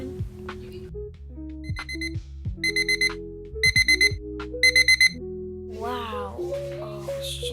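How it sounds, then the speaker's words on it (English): An alarm clock rings in the mobile game Avatar World. Bursts of bright, repeated beeps sound in short groups over a steady background tone, loud and close, with game sounds in between. "Oh, it's just an alarm clock."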